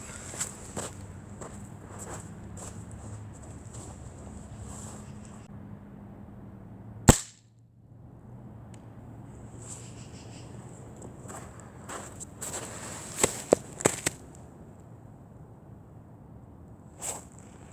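An air rifle fired into a caribou hide gives one sharp, close crack midway, with faint handling clicks and rustles before and after.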